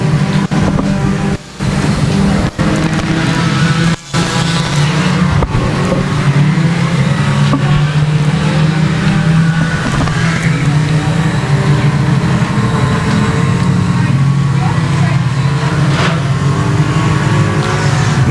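Race cars roaring around the quarter-mile dirt oval at Boothill Speedway, a loud, continuous engine din with rising and falling passes close by, near the end of a race.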